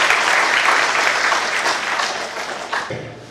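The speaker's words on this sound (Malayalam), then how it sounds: "എല്ലാവരും കൈയടിച്ച്" Audience at the inauguration of the Chavara family gathering bursts into sustained applause, a dense crowd of clapping that slowly thins toward the end with a low thump near the close.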